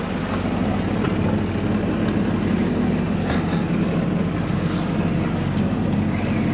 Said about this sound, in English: So we're going with the main sail still and the engine, doing approximately average 5 knots